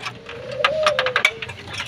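A male Pelung turtle dove cooing close by, one drawn-out low coo with a slight bend in pitch, cut through by short faint chirps and clicks.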